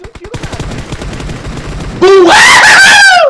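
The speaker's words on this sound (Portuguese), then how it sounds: "Mais um tiro, cara!" Rapid gunfire bursts from the battle royale game PUBG, a fast train of sharp reports that then gives way to a loud, sustained tonal blare near the end, with no voices over it.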